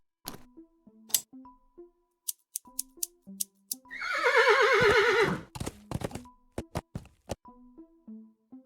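A cartoon horse in the Willy Morgan and the Curse of Bone Town adventure game lets out one long, loud whinny in the middle, framed by scattered clicks, plinks and short musical blips before and after.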